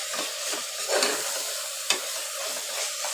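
Tomatoes and onions frying in oil in a pan for chicken biryani, a steady close sizzle with a spoon stirring and scraping through it, one sharp clink midway.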